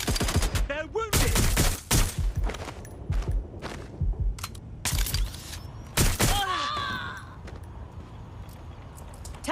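Gunfire in the video game Watch Dogs Legion: loud, close bursts of shots with echoing cracks, scattered impacts and a brief whistling tone, no talking over it.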